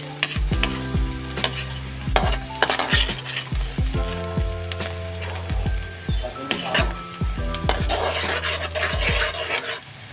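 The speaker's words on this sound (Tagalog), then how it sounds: "Lagay ko na ang ating 2 kilong bawang." Two kilos of garlic frying in butter for buttered garlic shrimp, a constant crackling sizzle punctuated by repeated sharp scrapes and knocks of a utensil against the pan throughout.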